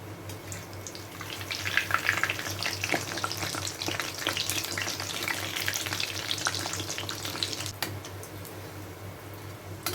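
Fish vada deep frying in hot oil, a steady crackling sizzle with a low hum underneath and occasional clinks of a utensil against the pan.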